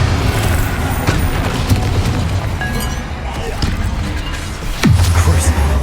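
A Bombarda blasting spell explodes in the Hogwarts Legacy video game, a deep boom near the five-second mark over a constant loud bed of game combat noise and rumble.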